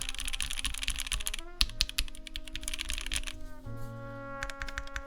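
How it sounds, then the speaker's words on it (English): Fast, clacky typing on a Neo Element G67 mechanical keyboard with GMK keycaps and a polycarbonate plate, heard up close as dense bursts of keystrokes with brief pauses, over faint tonal background sound. "With GMK, it definitely is going to have a slightly more clacky character."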